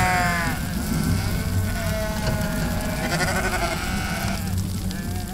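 A flock of about 200 grazing sheep bleats steadily in overlapping calls over a constant low roar of passing trucks.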